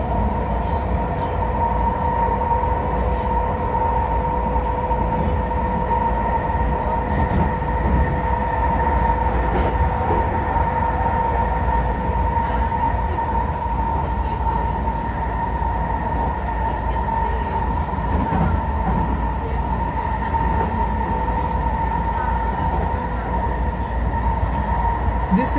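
A Vancouver SkyTrain running nearby, a loud, steady rumble with sustained whining tones and faint rail squeal that continues without a break.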